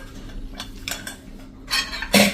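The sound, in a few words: opening the lid of a pressure cooker of dal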